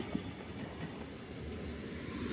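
An old train at Oslo railway station in winter gives off a low, steady rumble, fairly faint and distant, with no voices.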